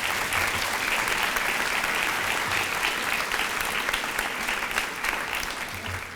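Steady applause from a large audience at a middle school honor society ceremony, dense and continuous, holding at an even level for several seconds without letting up.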